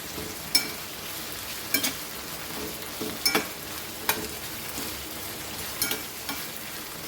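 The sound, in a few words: tomatoes and vegetables frying in pan for pav bhaji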